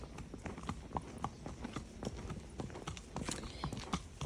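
Hooves of a barefoot, unshod horse clip-clop steadily on a hard surface under a rider, a brisk, even rhythm of sharp knocks, fairly close and moderately loud.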